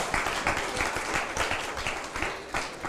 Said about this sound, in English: Just give her a huge round of applause